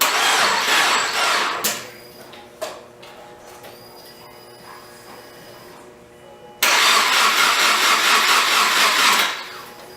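A rebuilt Subaru Forester engine, spurting oil, cranks over on the starter in two loud, steady whirring bursts separated by a quieter stretch of faint ticking and clicks.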